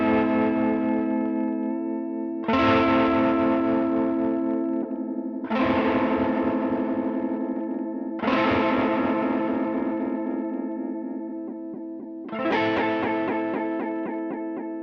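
Guitar run through a Line 6 Helix modulation effect using a harsh square-wave shape, the tone switching abruptly on and off in a choppy pulse; a few sustained chords are played one after another, each loud and bright with heavy effects.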